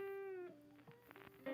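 A cat gives a short, quiet meow that falls in pitch, followed by softer chirping sounds, close but faint in a quiet room.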